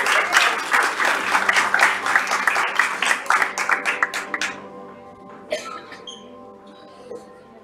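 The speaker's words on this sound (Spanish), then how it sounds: "dándole un fuerte aplauso al Señor Jesús" A church congregation gives a loud round of applause to Jesus during a service. The dense clapping lasts about four seconds, then thins out into scattered claps and quiet room sound.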